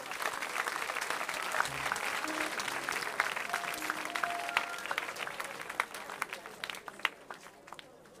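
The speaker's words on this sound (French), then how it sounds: "On acclame Jésus-Christ de Nazareth." A church congregation at a worship service applauds and acclaims Jesus Christ, with steady, moderately distant clapping that goes on throughout, some voices mixed in, and a few sharper claps near the end.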